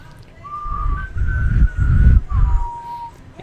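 A person whistles an imitation of the short mockingjay tune from the Hunger Games films, a few clear sustained notes rising and falling, close and moderately loud over low background noise.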